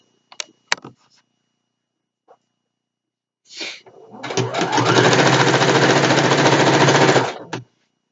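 A sewing machine stitches a satin pillowcase, running in one steady burst of rapid needle clatter for about three seconds, close and loud, after a few brief handling clicks and rustles.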